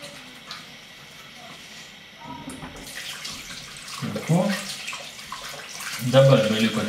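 Water splashes as a face is rinsed under a running tap at a sink, a steady flowing rush that grows into louder, closer splashing toward the end.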